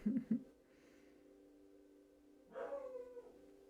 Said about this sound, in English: Oh, you can hear the dog barking.